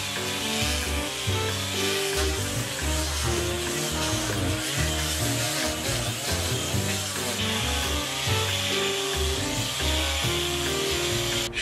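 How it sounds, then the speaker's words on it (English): A Black & Decker mouse sander fitted with 40 grit paper grinds steadily across varnished, damaged woodwork, a loud continuous buzzing rasp with shifting pitch as it is pushed, no talk. "One Black & Decker mouse sander and a whole bunch of, we're going to start off with 40 grit"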